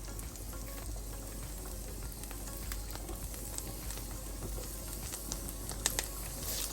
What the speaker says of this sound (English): We'll cook the garlic carefully and we'll try to give a nice golden brown color.